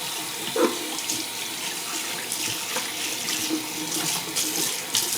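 Steady running water from a bathroom tap during a shave rinse, a continuous close splashing hiss into the sink with small spatters and no talking.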